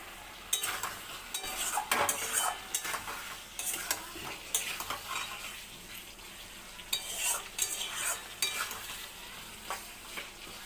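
Rohu fish curry with potatoes cooking in a pan, with stirring and scraping of a utensil and a soft sizzle, heard close up with intermittent clinks and no talking.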